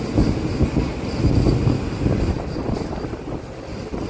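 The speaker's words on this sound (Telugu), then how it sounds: "లోకమాన్య తిలక్ టెర్మినల్స్ నుంచి విశాఖపట్నం వెళ్ళే ఎల్టీటీ ఎక్స్ప్రెస్. అది బయలుదేరిపోతుంది" An LTT Express train running from Lokmanya Tilak Terminus to Visakhapatnam pulls out of Kaikaluru station, a steady loud rumble of wagons and wheels close by with no break and no voices.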